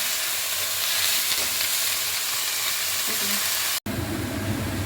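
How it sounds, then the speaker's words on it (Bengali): Mutton keema curry base lightly frying in a pan, a loud dense hiss of hot oil sizzling continuously up close, briefly cutting out for an instant near the end before resuming. "এটাকে এবার হালকা করে ভেজে নিব।"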